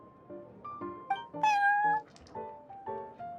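Game-voice cat meowing in the TCG Quest video game, a run of several distinct harmonic meows of varying pitch, one longer and louder in the middle, close and clear with no talk.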